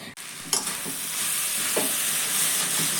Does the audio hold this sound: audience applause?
no